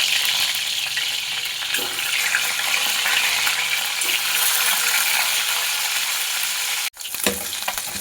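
Eggs fry in mustard oil in a wok with a loud, steady broadband sizzle, interrupted briefly by a sharp clatter near the end before the hiss resumes.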